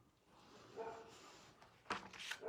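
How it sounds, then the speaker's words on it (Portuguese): A dog gives a couple of short barks from a played recording, faint and somewhat distant, over a hissy background with no speech. "com latidos de cachorro"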